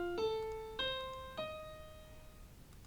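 Notes of a seventh chord built on F with a flattened E sound in three clear strikes, each entering about half a second after the last. All the tones then ring out together and fade slowly, with no talking.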